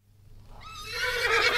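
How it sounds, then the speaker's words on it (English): Horse whinny as a sound effect in a radio play of Doctor Faustus, rising from faint to a loud, sustained neigh that fills the moment on its own with no talk. "look to the horses there till I come again"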